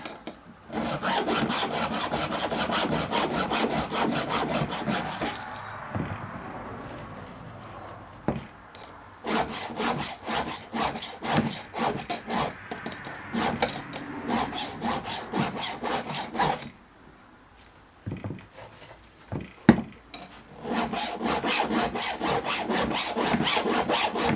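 A hand file rasps across a chainsaw chain's cutters in rapid rhythmic strokes, close and steady, broken by short pauses and a few clicks between bursts.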